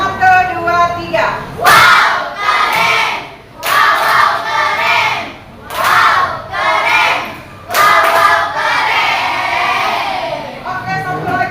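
A class of schoolchildren performs a clapping chant in praise of a classmate, Safira: several loud, rhythmic bursts of shouted voices and claps separated by short pauses.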